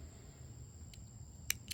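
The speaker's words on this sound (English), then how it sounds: "So I'm going to cut my yarn" Scissors snip through crochet yarn in two quick, faint clicks near the end, with a quiet hiss underneath and no talk.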